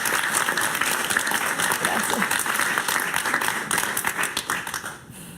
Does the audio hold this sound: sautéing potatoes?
no